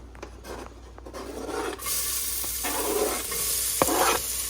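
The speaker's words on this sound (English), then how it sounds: "That's a nice sizzle." Onions sizzle steadily in a hot pot, with scraping and stirring noises and occasional sharp clicks.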